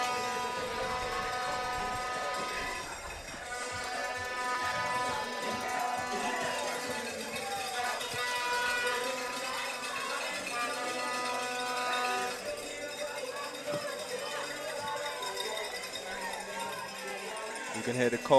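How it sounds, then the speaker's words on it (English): A crowd at a swimming championship in St. Vincent and the Grenadines clangs cowbells and blows horns in a steady, busy din, with a commentator talking over it throughout. "You can hear the cowbells, you can hear the horns."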